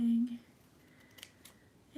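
Scissors cut through pinned tulle fabric in a couple of quick, crisp snips, close and fairly quiet.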